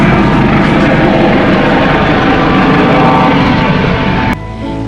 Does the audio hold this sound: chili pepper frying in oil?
no